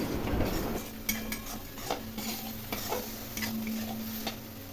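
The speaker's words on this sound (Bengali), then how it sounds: "দেখুন মশলা আমি খুব ভালো করে কষিয়ে নিচ্ছি যাতে মশলার মধ্যে মশলার কাঁচা গন্ধ না থাকে" A spice masala is stir-fried in a pan, with a soft sizzle under repeated ticks and scrapes of a metal spoon against the pan, close and fairly quiet, with no talking.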